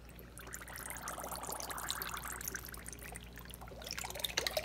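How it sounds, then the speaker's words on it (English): A cold plate is lowered into water, giving a close, steady fizzing and trickling of bubbles with small splashy pops toward the end. "I'm going to lower this into the water just so you can see the bubbles coming off"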